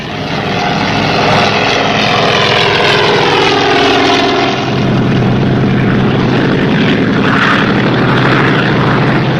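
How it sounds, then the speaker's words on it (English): A loud seaplane propeller engine roars steadily and close, its droning pitch shifting as the seaplane powers up and takes off. "The seaplane took off in a great hurry, leaving the 2 divers behind."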